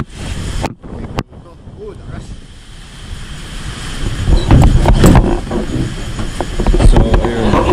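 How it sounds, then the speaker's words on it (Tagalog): Strong typhoon wind roars and gusts heavily outdoors at night in the Philippines, rising and surging in waves, with a brief thump early and a voice faintly underneath. "Lakas ng hangin."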